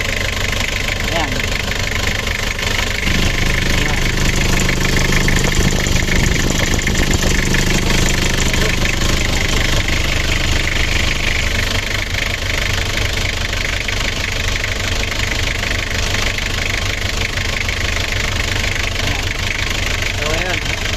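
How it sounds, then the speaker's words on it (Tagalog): A 2L turbo diesel van engine idles close by, a steady low rumble with a knocking diesel clatter that runs evenly for about twenty seconds while someone talks over it. "Yan yung makina niya."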